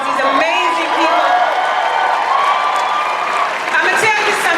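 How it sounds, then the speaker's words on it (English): A Comic-Con panel audience in a big hall for The Witcher gives steady, dense applause with whoops and cheers mixed in, lasting the whole stretch at a fairly loud level. "give them another round of applause"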